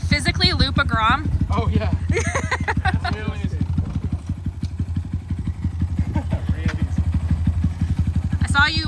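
A Grom motorcycle is ridden close by, its small engine putting out a loud, steady rapid putter throughout while people talk and shout over it.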